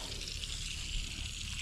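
Water rushing steadily from an outdoor spigot that was left open over the winter and is being flushed: a soft, continuous hiss with no pauses and no voices.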